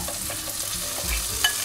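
Onions fry in hot oil in a pan alongside milkfish fillet strips and fish balls, giving a steady close sizzle with soft stirring scrapes throughout, no voices.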